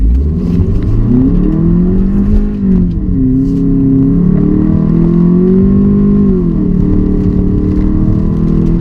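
A 2016 Ford Focus SE in sport mode accelerating hard from a standstill, its engine loud and close, pitch climbing and dropping through automatic shifts before rising again.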